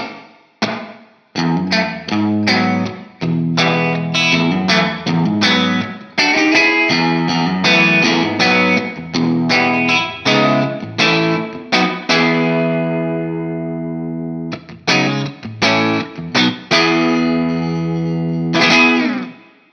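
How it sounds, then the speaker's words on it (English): Electric guitar notes played through a Strymon Cloudburst ambient reverb pedal set for a natural room reverb, a steady run of plucked notes and chords with short tails, ending in a longer ringing decay. "you're going to hear it actually sounds very convincingly like a nice natural kind of room reverb"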